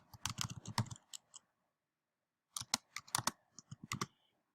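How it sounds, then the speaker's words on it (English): Java code is typed on a computer keyboard in two quick bursts of close, crisp key clicks separated by a stretch of near silence. "So I'm going to type in button."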